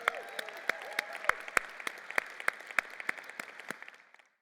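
Conference audience at GopherCon 2022 applauding in a large hall, a dense wash of clapping with sharp individual claps standing out, gradually thinning and fading out near the end.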